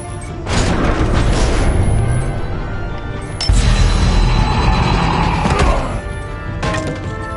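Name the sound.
missile explosion in Batman video game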